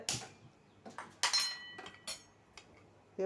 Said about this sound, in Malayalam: സ്പൂൺ വെച്ച് നമുക്കൊന്ന് മിക്സ് ചെയ്തിട്ട്